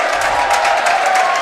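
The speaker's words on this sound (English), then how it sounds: "a cheer from the Mount Horeb parents" Mount Horeb parents cheering at a high school basketball game, a loud burst of crowd whoops and cheers with some clapping, sustained over the whole moment.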